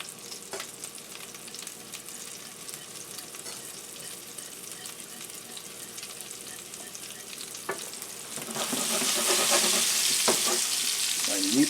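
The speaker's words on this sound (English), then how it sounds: "meatballs are cooking nicely. You want to try to get them on all sides." Curry chicken meatballs sizzling in a pan for a Jamaican dish, a steady close frying hiss with scattered scraping stirs, the sizzle growing louder and brighter near the end.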